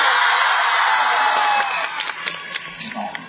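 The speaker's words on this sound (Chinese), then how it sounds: "掌声有请张云雷" Audience applause and cheering greet Zhang Yunlei at a live xiangsheng comedy show in Taiyuan, a loud dense roar that fades after about a second and a half into scattered claps and shouts.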